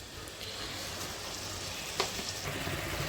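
Potatoes fry in a little oil left from frying catla fish, making a soft, steady sizzle with light stirring and one brief scrape midway. The sound is fairly quiet and has no speech.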